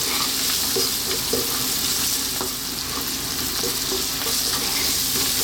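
Vegetables stir-frying over high heat for a vegan dish, a steady loud sizzle with scattered clinks and scraping from stirring, continuous and close throughout.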